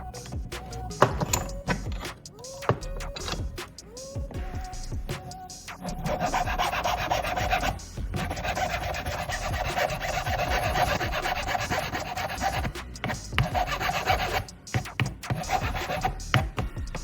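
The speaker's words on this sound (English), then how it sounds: "To smooth the surface, you can use either a metal file or some sandpaper." A metal file or sandpaper smoothing a surface, with short rasping strokes at first, then a longer continuous scraping rub, close and fairly loud.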